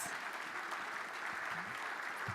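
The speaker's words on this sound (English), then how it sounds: "One more round of applause again for the Baltimore City Health Department." An audience at a gala ball honoring a city health department applauds steadily, a dense wash of clapping sustained throughout without pause.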